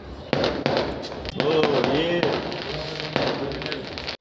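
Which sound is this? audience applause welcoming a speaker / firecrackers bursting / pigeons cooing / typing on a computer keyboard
firecrackers bursting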